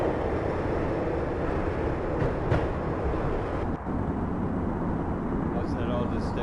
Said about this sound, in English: When the train he was riding slowed down, Cogniti made his move.